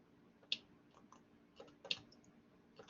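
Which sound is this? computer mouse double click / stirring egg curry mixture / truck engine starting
computer mouse double click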